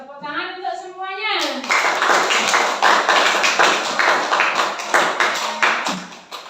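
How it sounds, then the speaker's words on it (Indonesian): A classroom of Indonesian students claps together for everyone after presentations, steady group hand clapping that starts just after a teacher's voice and continues to the end, loud and close. "tepuk tangan untuk semuanya"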